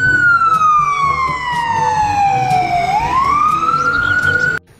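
A toy ambulance siren wails loud and close in a single steady electronic tone that glides downward and then rises again, cutting off abruptly at the end.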